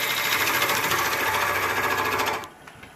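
A wood lathe turns green wood, throwing shavings with a close, loud, rapid rhythmic whirring chatter that cuts off abruptly near the end.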